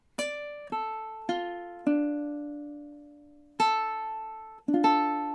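Ukulele strumming measures 5 and 6 of a song: six clear, evenly spaced chord strums with ringing, decaying notes, played solo and close with no voices.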